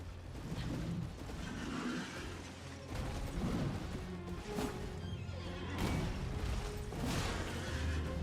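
Horse in the video game Elden Ring lets out a loud whinny over game sound effects and a rumbling backdrop, with a second neigh-like cry later.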